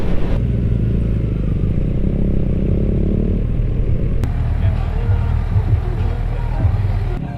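Loud, steady engine rumble and wind buffeting while riding a Kawasaki Z900 motorcycle, a continuous low drone close to the microphone with no clear speech.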